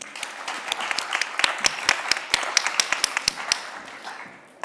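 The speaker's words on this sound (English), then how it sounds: "Round of applause." An audience on the main stage of the EGEF2024 forum claps: distinct, sharp hand claps in a fairly sparse, uneven rhythm, close and moderately loud, tapering off near the end.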